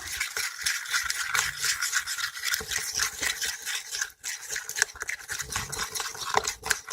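Homemade slime mixture being stirred in a container, a steady close wet rubbing and scraping that keeps going with little break, no talk over it.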